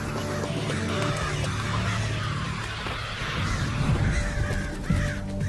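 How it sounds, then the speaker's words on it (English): Crows on a university campus cawing in alarm, several birds calling harshly and repeatedly over one another with a steady background hum, moderately loud and close. "the crows still freak out when they see the dangerous face, even if it's disguised with a hat"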